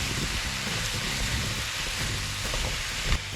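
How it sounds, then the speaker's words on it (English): Apples fry in melted sugar in a pan, giving a steady, close sizzling hiss that runs unbroken throughout without any talking. "Basically it's just frying apples in melted sugar."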